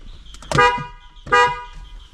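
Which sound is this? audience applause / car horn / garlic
car horn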